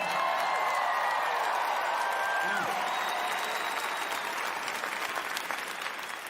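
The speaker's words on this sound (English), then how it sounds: "You guys are clapping" Steady audience applause fills a comedy show, continuous clapping holding loud and even throughout, with a faint voice or cheer rising briefly within the crowd noise.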